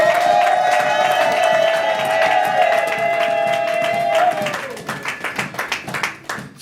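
A church congregation acclaiming during a French-language worship service, with sustained cheering and voices that give way to rhythmic, evenly spaced clapping in the final seconds.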